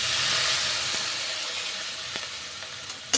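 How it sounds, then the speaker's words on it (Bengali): Spices sautéing in a pan for banana flower curry, giving a loud bright hiss that eases slightly, with a few faint stirring taps and a sharper clack at the end. "এবার সব মশলা দিয়ে বেশ কিছুক্ষণ কষিয়ে নেব।"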